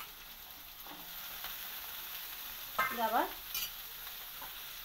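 Bitter gourd, potato and radish pieces fry with chopped onion in a pan, a low steady sizzle with a few stirring scrapes, while someone says a single word in the middle.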